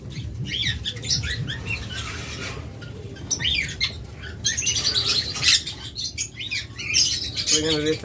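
Love birds chirping and squawking in a group, with rapid overlapping shrill calls and short bursts, some louder and closer, continuing throughout with no talk.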